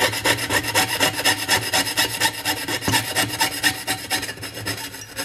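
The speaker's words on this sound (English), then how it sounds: "I'll just begin sawing toward one of the edges here" A hand saw cuts into a metal spatula laid flat on a surface, giving rapid, rhythmic rasping strokes, close and steady, easing slightly toward the end.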